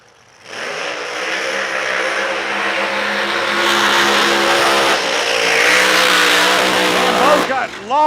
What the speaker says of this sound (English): Long smoky burnouts for both entries.